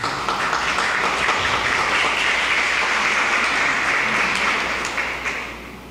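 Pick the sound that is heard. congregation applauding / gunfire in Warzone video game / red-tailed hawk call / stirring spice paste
congregation applauding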